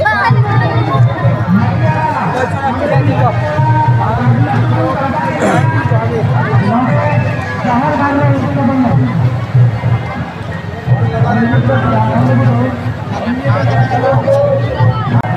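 A large, dense crowd of people pushes and shoves at a Santali gathering: a constant loud hubbub of many voices, shuffling and movement close by, with people talking throughout.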